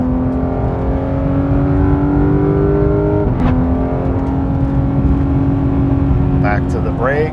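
A car engine drones steadily and loudly through a long turn on the Cherohala Skyway mountain road in the Smoky Mountains, its pitch holding and then shifting as the throttle builds, with a brief dip midway.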